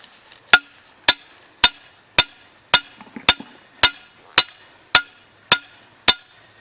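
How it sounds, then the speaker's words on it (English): A hammer drives a metal trap stake into the ground with eleven evenly spaced, sharp, ringing blows, each a bright metallic clank that decays quickly, heard close and clear with no talking. "what you want to do is drive this stake down in."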